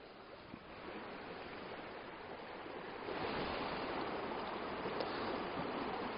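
Seckington Water, a moorland stream near the source of the River Torridge, roars steadily, a dense broadband torrent that grows a bit louder partway through, with no voices.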